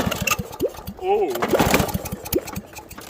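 A lawn mower engine runs hard during a torture test, pulsing in a rapid, uneven chug of close, rough firing beats while people shout and exclaim nearby.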